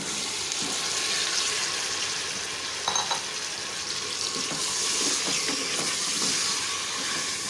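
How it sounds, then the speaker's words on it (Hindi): Chicken sizzling and frying in a pan with cumin seeds and spices, a steady broadband hiss of hot oil throughout with a few brief clatters of stirring, close and moderately loud, no talking. "खूब अच्छी तरह से भुनाई करें और साथ ही डाल दें चिकन।"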